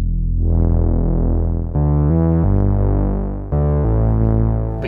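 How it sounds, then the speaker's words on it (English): Sustained bass tone from a Behringer modular synth patch with the filter opening, holding a droning note that shifts pitch a few times, loud and continuous with no talking. "What if you wanted to make your bass sound kind of like this?"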